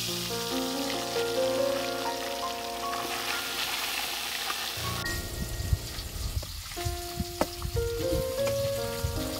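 Puti fish (small pool barb) frying in hot oil gives a continuous crackling sizzle, with a soft musical tone playing underneath and a few sharper pops later on.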